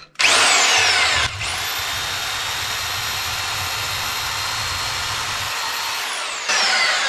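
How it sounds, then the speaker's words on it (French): A power drill bores a hole through a wall in an old sealed-off passage, a loud high whine that spins up, holds steady for several seconds, then revs again near the end. "je vais d'abord commencer par percer pour voir où est-ce qu'on arrive"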